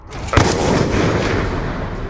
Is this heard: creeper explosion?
yes